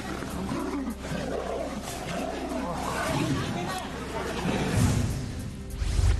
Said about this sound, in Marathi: वाघांच्या लढतीचा थरार कॅमेऱ्यात कैद